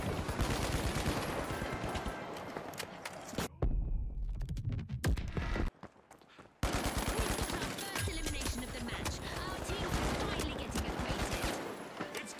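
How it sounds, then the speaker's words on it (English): Gunfire in the online shooter The Finals comes in loud, dense bursts of rapid shots with brief pauses and a short near-silent gap, under occasional talk. "I don't know who's shooting me from the roof"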